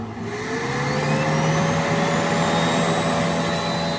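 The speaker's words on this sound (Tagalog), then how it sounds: "Kasi itetest natin yung ingay ng turbo." Turbocharger on a Mitsubishi Montero with a 4N14 engine, spinning during a noise test: a steady whirring whine with a rising high-pitched tone, held loud and close with no voices.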